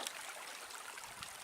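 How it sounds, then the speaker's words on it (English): A river runs beside a road near the Arapaho Pass hiking trail in Nederland, Colorado, a faint steady rush of flowing water with no voices. "There's a river on the other side of the road here."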